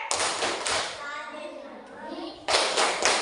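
Children in a classroom clap along to a chant: bursts of sharp, rhythmic claps open and close the stretch, with young voices chanting in between.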